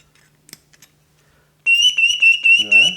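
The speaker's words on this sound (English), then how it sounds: "Look, I push it there and it works." After a few faint clicks and handling noises, a handmade bird whistle is blown. It gives a bright, shrill, warbling trill in several close, repeated bursts, ending with a falling chirp.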